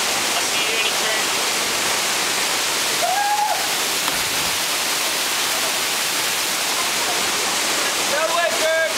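Waterfall in Hong Kong roaring steadily and loudly, a dense continuous hiss of falling water close by, with brief faint voices barely rising above it.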